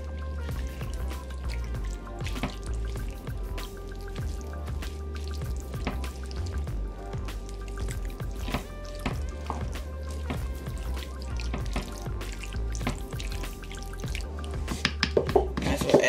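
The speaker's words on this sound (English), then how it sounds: "and just give it another mix" Low carb chili with chili flakes and chili powder is stirred in a pot, giving wet squelching and dripping sounds with small ticks of the spoon, steady and close. Toward the end the clinks get louder, and no one speaks.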